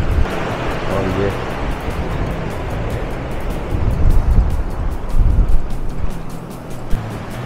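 Surf rolls onto Varca Beach in South Goa, a constant wash of breaking waves mixed with wind buffeting, swelling louder in the middle. A voice briefly murmurs early on.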